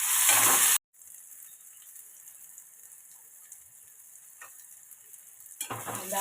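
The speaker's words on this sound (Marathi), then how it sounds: "कांदा आपला चांगला लाल परतून झालेला आहे" Chopped onion and tomato sizzle in a pan with garlic, a soft, steady frying hiss that follows a brief loud burst at the start. A few faint scrapes are heard before louder stirring noise returns at the end.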